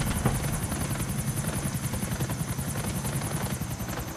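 A helicopter in the game GTA IV: The Lost and Damned drones loudly and continuously, its rotor thumping in a fast steady beat under a high whine, with no voices.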